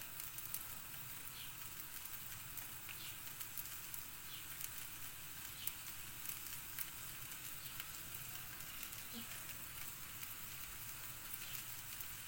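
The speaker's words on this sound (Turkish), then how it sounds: "Köftelerimin hepsini yaptım. Şimdi kızarıyor." Meatballs fry in a pan with a little oil, giving a steady, quiet crackling sizzle with scattered pops throughout and no speech.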